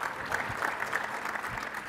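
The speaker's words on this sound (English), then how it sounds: "It's always surprising when you hear a clap for something" Indoor audience at a Windows Server tech conference session clapping, a dense, steady patter of applause over a brief moment with no talk.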